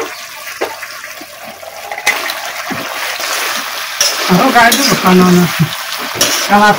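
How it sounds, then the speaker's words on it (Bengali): Pre-fried fresh wetland fish go into a simmering papaya and potato curry, making loud bubbling and sizzling close by, with splashing, splattering and utensil clatter building toward the end. "এখন আমি ভেজে রাখা মাছগুলো দিয়ে দেবো"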